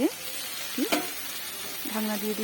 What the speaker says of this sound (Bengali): ঢাকনা খুলে আবারও ভালোভাবে নেড়ে নেব